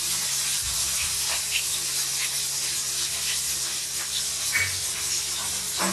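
Onion sizzles in a hot pan for a fish curry (meenu huli), a steady loud hiss with faint crackles running throughout, no talking.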